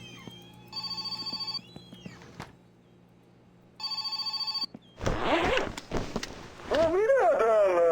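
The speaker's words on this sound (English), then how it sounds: "Telephone is ringing." An in-game telephone in the My Winter Car video game rings in two bursts of repeated electronic trills, loud and close, separated by a pause; afterward come rustling, clattering handling noises and a rising whining tone.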